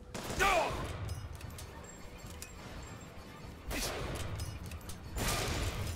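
Gunfire in the game BioShock Infinite, with scattered shots and impacts, two louder bursts of fire toward the end, and some faint mechanical clicks between them.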